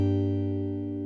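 Open sixth, third, second and first guitar strings sound together as one sustained chord, close and ringing steadily for about a second with no voice.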